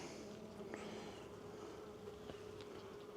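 Honey bees buzzing around a hive during a cold mid-winter apiary check, a steady droning hum that stays quiet and continuous, with a few faint bees passing closer.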